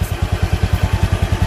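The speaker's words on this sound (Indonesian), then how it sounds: "Nah, mesin hidup ya," A motorcycle engine idles just after starting, a steady, even low chugging of rapid regular pulses, close and moderately loud.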